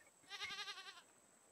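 A single tremulous goat bleat from the video game RAFT, about two-thirds of a second long with a quivering pulse, fairly quiet over a low background hum.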